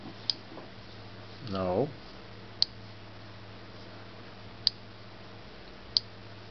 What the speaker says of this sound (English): So I'm just going to type in C